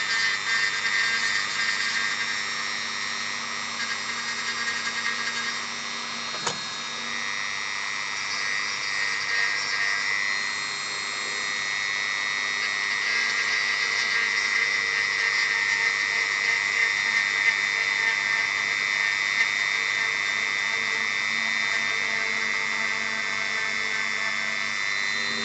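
A power tool grinds a custom Star Wars Legion AT-ST model part held against a table, a loud, steady high-pitched whine that runs continuously for the whole stretch with one brief click partway through.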